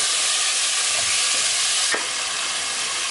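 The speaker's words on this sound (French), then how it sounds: "On les fait griller un peu pour faire sortir le goût de poireau." Leeks and tomatoes fry in a pan with a dense, steady sizzle and crackle, close and fairly loud, with a few soft stirring scrapes, and no voices.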